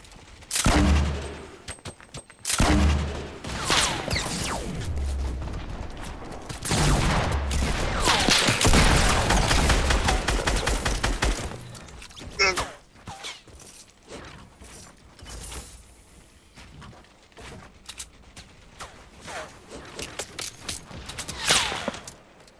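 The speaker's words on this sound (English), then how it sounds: "Guys, they're shooting from northwest." Fortnite Battle Royale gunfire erupts in loud bursts of rapid shots and rattling automatic fire, clustered heavily in the first half, then fading to scattered, fainter shots and game noise.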